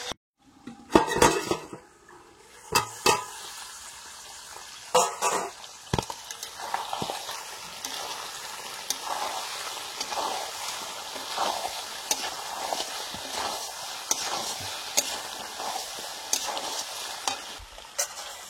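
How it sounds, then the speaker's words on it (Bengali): Duck meat sautés in a pan over low heat, a steady soft sizzle under frequent scraping and clinking of a spoon against metal, with sharper knocks early on and no talking. "হালকা জ্বালানিতে মাংসটা কষতে হবে।"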